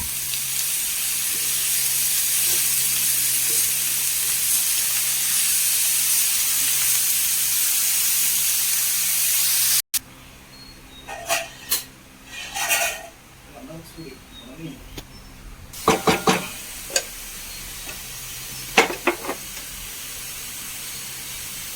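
Chopped spinach and chillies frying in a hot pan give a loud, steady hiss for about ten seconds. Speech follows over quieter pan sounds.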